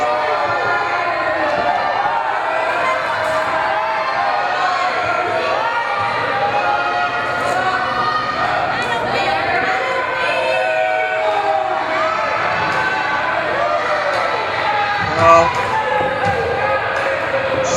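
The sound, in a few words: wrestling event audience noise drowning out a speaker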